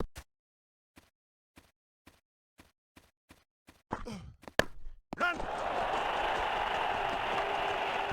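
Crowd applause and cheering after a boundary four in the cricket game International Cricket 2010, India versus Sri Lanka at Colombo, rising abruptly after a run of evenly spaced thuds and holding as a loud, steady roar.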